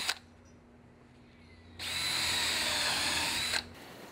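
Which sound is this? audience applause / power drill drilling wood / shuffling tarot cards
power drill drilling wood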